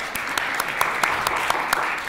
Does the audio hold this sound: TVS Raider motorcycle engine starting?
no